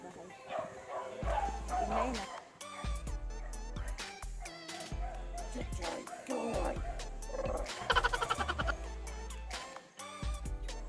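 A neighbourhood dog barks in short repeated bursts, fairly close, over ongoing talk and music during a casual walk past neighbours' houses.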